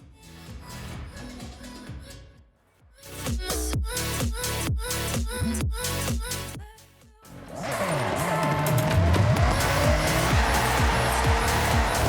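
A car drifts in Forza Horizon 6 with stability control off, engine revving hard in rhythmic bursts and tires squealing loudly in a sustained skid toward the end.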